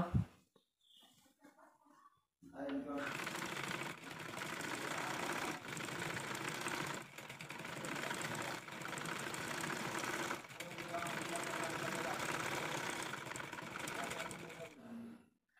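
A sewing machine stitches pleats on a frock-style nighty, a close, rhythmic mechanical rattle that runs in long stretches with short pauses between them.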